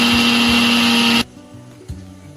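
A kitchen mixer grinding spicy chutney for pani puri, a loud steady whirring drone for about a second that cuts off abruptly, leaving quiet clatter and a brief bump afterward.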